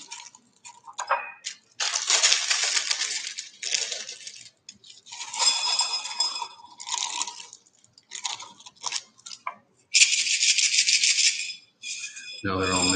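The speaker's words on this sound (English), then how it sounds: "I'm going to pour them into a glass here." Small Lego pieces poured into a glass, giving bursts of bright clattering and clinking that start and stop in uneven rattling spurts, close up, with brief gaps of quiet between pours.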